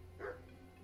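A dog in the video game Kingdom Come: Deliverance gives a single short, faint bark that stands out briefly over quiet background ambience.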